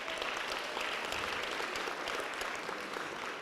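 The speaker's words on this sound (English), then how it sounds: "You can give them a round of applause." Applause from an audience at a technical college fashion show honouring the cosmetology department staff, steady and dense clapping that holds evenly for the whole stretch with no voices over it.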